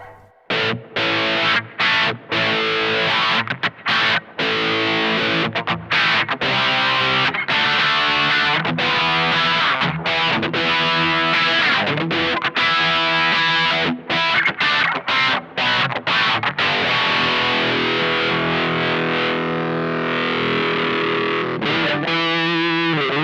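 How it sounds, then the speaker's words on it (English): Distorted electric guitar through wah and a Supro Drive overdrive pedal plays a choppy riff of chords and single notes, dense and gritty with a vocal, sweeping tone, no talking. "I'm just going to run that with that Supro overdrive sound and show you what it sounds like."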